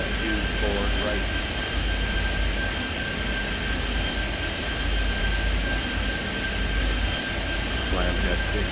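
Steady jet engine roar of an airliner taking off in the airport simulation game Airport Madness 3D, a constant droning rumble with a high whine running throughout, loud and unbroken, with faint radio-style chatter in the background.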